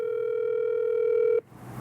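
A telephone dial tone while calling a number, a steady, clear electronic hum that holds for over a second, then cuts off abruptly into a faint line hiss.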